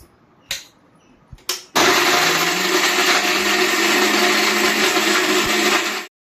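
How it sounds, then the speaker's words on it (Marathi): A kitchen mixer grinder blends Konkani-style crab curry masala with a little water. A couple of clicks come first, then a loud, steady, close whirring roar runs for about four seconds before cutting off. "तर मम्मी आता मिक्सरला लावते"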